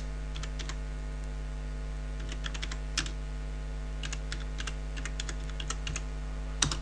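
Typing a web search on a computer keyboard, a steady run of light, close key clicks in quick irregular bursts with brief pauses, over a low constant hum and no speech.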